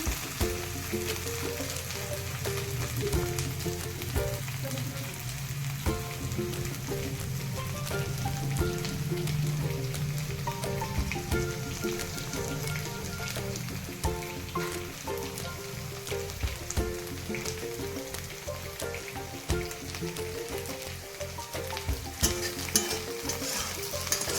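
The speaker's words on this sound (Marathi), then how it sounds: "बघा, याला असं चांगलं हलवून घ्यायचं असतं. थोडं याला तर तळू द्यायचं आहे टाकलं तुपामध्ये." Sabudana (sago pearls) frying in ghee in a large kadhai, with a steady loud sizzle and repeated scraping stirs of a spoon throughout, no voices.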